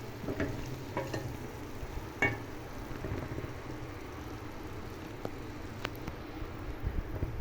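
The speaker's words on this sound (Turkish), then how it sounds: "Onları beraber şimdi kavuruyorum." Onions and garlic sizzle steadily in a hot pan, with occasional scrapes and taps of a spoon stirring.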